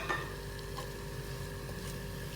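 Chicken and mushrooms frying lightly in a pan for Schezwan soup, a soft, quiet sizzle with faint stirring scrapes that continues steadily, with no one talking.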